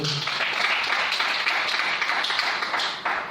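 A church congregation claps steadily for several seconds, a dense and continuous patter of many hands that fills the room with an even intensity throughout.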